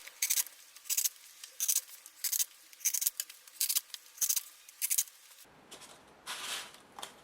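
Scissors cutting pieces of material for a model tank, a quick series of about a dozen crisp snips in even rhythm, close and alone, followed by a softer rustling shuffle.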